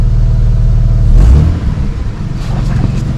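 A powerful car engine revs during a test drive, a loud low rumble swelling to a brief peak and then settling back into a steady growl.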